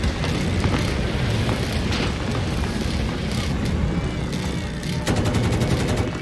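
Dense, continuous gunfire and battle noise from Battlefield 2042, a steady loud barrage with bursts of rapid machine-gun shots near the end, with faint voices mixed in.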